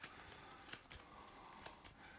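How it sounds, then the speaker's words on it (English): A few board game cards are shuffled into a draw pile, giving soft quiet riffles and light papery snaps in quick bursts, close but faint. "So this I'll shuffle into my draw pile because I still have cards in it."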